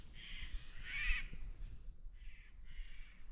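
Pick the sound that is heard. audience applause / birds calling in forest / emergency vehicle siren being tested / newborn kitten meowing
birds calling in forest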